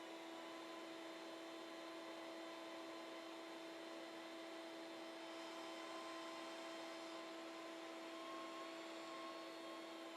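A shop dust collector runs steadily through a straight length of PVC piping, a loud, constant whooshing roar with a few steady whining tones that hold unchanged from start to finish, with no talking.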